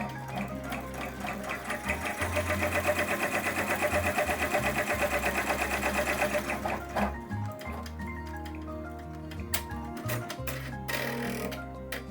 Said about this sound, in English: now we're doing a tack down stitch to sew the inner piece to the outer piece for the liner